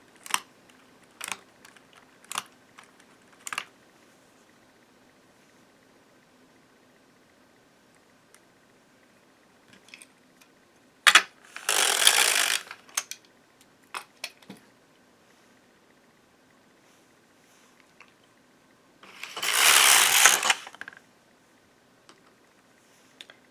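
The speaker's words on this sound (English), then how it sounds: "Weaving those in and knitting the row." An LK150 knitting machine knits a row with a Weave-R attachment: soft scattered clicks, then two loud rasping sweeps as the carriage slides across the needle bed, each lasting about a second or two, close up with no voices.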